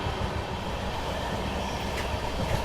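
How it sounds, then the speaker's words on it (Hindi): The Vrindavan Superfast Express passenger train runs along the track, a continuous loud rumble and rattle of wheels and carriages that holds steady from start to finish. "Vrindavan superfast express."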